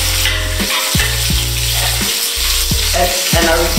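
Steak sizzling loudly in a very hot pan, a dense continuous crackle close up with faint pulsing hum underneath, no talking.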